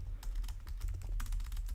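Rapid typing on a computer keyboard while entering network addresses in a Packet Tracer networking exercise, a steady run of close, crisp key clicks with no talking.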